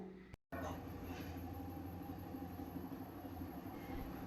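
A vibration plate weight loss exercise machine runs quietly indoors, giving a steady low mechanical hum with a faint tonal whine that stays constant after a brief dropout at the start.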